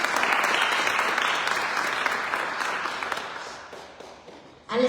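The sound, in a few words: audience applause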